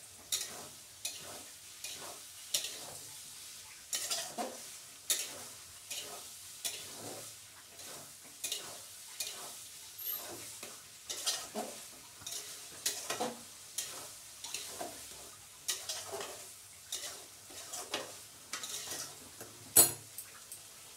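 A spoon stirs and scrapes matar paneer with potatoes as it sautés in a pan, giving a steady rhythm of close, regular metallic scrapes over a faint sizzle, with no talking.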